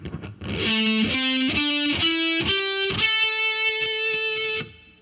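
A distorted heavy metal electric guitar plays a short fretted pattern of separate picked notes stepping upward, then a final note held and ringing, close and alone.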